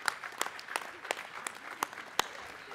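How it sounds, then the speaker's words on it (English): Scattered, light applause from a small audience at a business awards ceremony for a medium-sized company's staff, with a few sharp claps standing out in a thin, uneven patter. "So please give a round of applause to my staff there."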